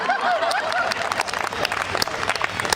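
A comedy poetry show audience claps and chuckles in a steady, dense wash of applause, close and loud, with scattered laughter rising through it.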